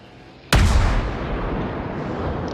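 Naval guns fire armor-piercing shells in World of Warships: one sudden, loud, deep blast followed by a long rumbling decay that fills the rest of the moment, with no voices.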